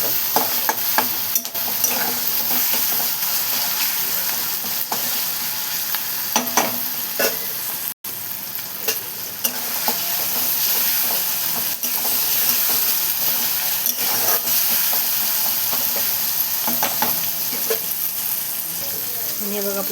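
Onion and tomato sizzle and fry steadily in a pan while being stirred for a Marathi-style peas thecha, a continuous close hiss with scraping stir sounds throughout and no talking.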